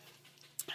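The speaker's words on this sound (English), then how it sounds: "You can probably hear my dog panting in the background." A dog breathing in quick, soft pants close by, faint and brief, with a couple of short higher bursts near the end and no talk.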